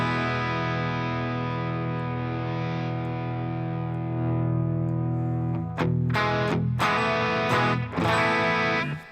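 An electric guitar plays through a Boss overdrive pedal preset with a sustained, distorted chord. Sharper strummed chord hits follow near the end, loud and close, with no talking.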